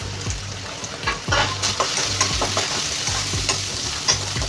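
Red chilli powder, turmeric and garam masala frying in oil for a samosa filling, a close, steady sizzle broken by repeated scraping stirs of a spoon in the pan.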